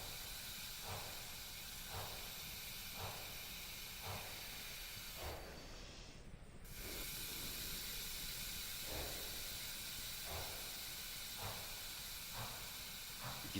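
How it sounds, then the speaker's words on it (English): A steam locomotive in a train-loading game chugs in an even rhythm of soft puffs under a constant hiss, with a brief louder release of steam midway, faint and steady throughout. "the faster you can run this, the more it sounds like an actual steam locomotive to me"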